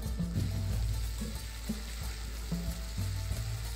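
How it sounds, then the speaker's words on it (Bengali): Drumstick pieces stirred into potatoes frying in oil, with ginger, make a continuous sizzle broken by repeated clanks and scrapes of a utensil against the pan, close and with no voices. "এবারে আগে থেকে কেটে রাখা সজনে ডাঁটাগুলো দিয়ে দেব এবং ভালো করে সবকিছু মিশিয়ে নেব।"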